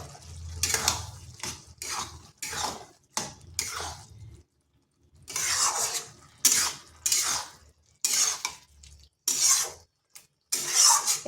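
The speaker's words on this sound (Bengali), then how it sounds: "এরপর এখানে দিয়ে দিচ্ছি আলুগুলো।" Half-boiled potatoes go into a cooking pan in several quick clattering bursts of metal scraping and knocking, each followed by brief pauses, close and fairly loud, with no talking.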